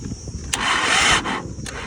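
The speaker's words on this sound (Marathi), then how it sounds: "आता या ट्रॅक्टर चालू करू पुरा रेस करू" A small tractor engine with a weak, run-down battery cranks and catches, giving a brief close rattling burst that swells and fades within about a second, with faint mechanical noise around it.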